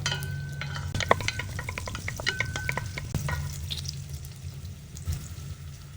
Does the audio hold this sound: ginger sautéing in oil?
yes